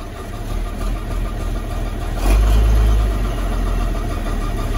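A farm vehicle's engine cranks and settles into a steady low idle, close and loud, with a louder surge partway through; it is used for sorghum sudan hay work.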